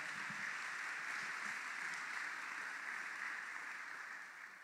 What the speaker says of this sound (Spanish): les damos un aplauso también del trabajo que están haciendo en San Jorge de Upala